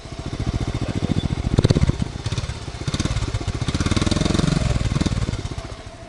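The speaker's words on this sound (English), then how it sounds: "No noise from the motor other than the noises it's supposed to make." A 1986 Honda Z50R minibike, low-mileage and unridden for 30 years, idles with a steady, rapid small-engine putter, loud and close, swelling slightly in the middle.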